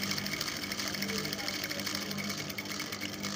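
Sewing machine running steadily as it stitches a ben collar for a kameez, a continuous close mechanical whir throughout.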